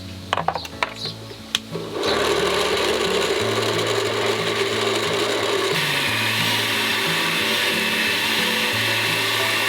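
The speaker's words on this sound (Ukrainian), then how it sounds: "Все дрібнемо у блендері." A blender roars loudly and continuously, grinding corn kernels in water, its motor grinding hard with a rough, uneven churning, after a few brief clicks and knocks at the start.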